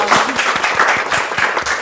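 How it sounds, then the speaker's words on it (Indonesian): A crowd applauding steadily, dense clapping filling the whole stretch at an even loudness, with some voices mixed in. "Tepuk tangan dong."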